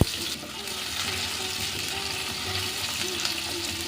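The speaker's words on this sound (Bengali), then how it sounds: "তেল খুব ভালো করে গরম হয়ে গেছে এবার দিয়ে দেবো একটা ফোড়ন তেজপাতা শুকনো লঙ্কা আর অল্প সাদা জিরে আর দেবো অল্প পেঁয়াজ কুচি" Bay leaf, dried red chilli, a little cumin and chopped onion sizzle in hot oil, a steady broadband frying hiss that stays close and even throughout with no talk.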